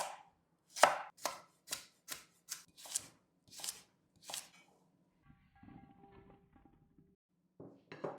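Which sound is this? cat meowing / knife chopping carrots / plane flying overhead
knife chopping carrots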